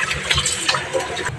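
Water splashing and sloshing over raw pork being washed by hand for dinuguan, a close, continuous gushing with choppy bursts.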